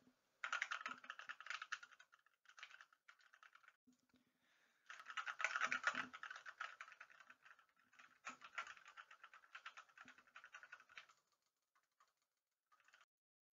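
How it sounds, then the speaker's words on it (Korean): Rapid, light keyboard clatter and mouse clicks, heard through a ROCCAT Syn Pro Air microphone, come in bursts with short pauses, interspersed with small clicks, fairly quiet and close. "키보드와 마우스 버튼을 눌러보겠습니다"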